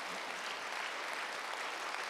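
A church congregation at a Wednesday worship service applauds together, producing a steady, dense wash of clapping that holds at an even level throughout the moment without a break.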